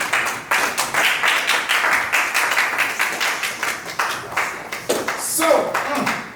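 Crowd claps for the Season 1 winners at a show finale, rhythmic, distinct hand claps in a steady pulsing pattern, with cheering or a voice rising near the end.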